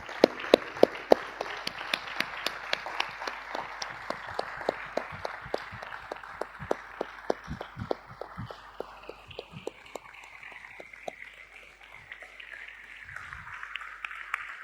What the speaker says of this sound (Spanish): Entonces le damos un aplauso más fuerte